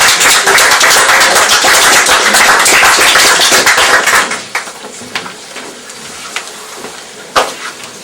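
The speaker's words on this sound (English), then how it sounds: "Can we give a round of applause for Kieran?" An open mic audience at the White House, Limerick applauds in a dense burst of clapping for about four seconds, then fades to a few scattered claps.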